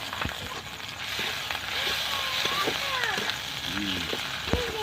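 Onion frying in a pan with ginger-garlic paste just added, a steady broadband sizzle running throughout at moderate level, with occasional stirring clinks and a voice speaking softly over it.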